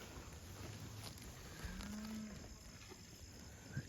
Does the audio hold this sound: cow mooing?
yes